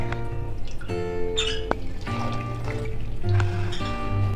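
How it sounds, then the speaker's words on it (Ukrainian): Brine is poured into a jar of cabbage-stuffed peppers, giving a gurgling, trickling fill with short bursts and small pauses, close up and fairly quiet. "щоб капуста не повибивалася заливаємо, щоб повністю були покриті."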